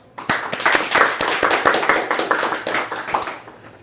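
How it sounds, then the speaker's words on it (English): An audience claps warmly for a guest at a comic arts festival spotlight panel in Nashville, a burst of many hands swelling quickly, holding for a few seconds, then thinning out. "Warm round of applause for Ben Sears."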